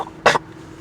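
One short, sharp cough, close and fairly loud, against a quiet background.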